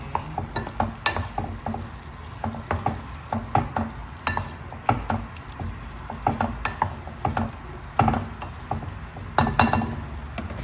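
Chicken pieces go into a pan of frying mushrooms, giving a steady sizzle with repeated scraping and stirring clicks from a utensil at close range, rhythmic and irregular, with no voices.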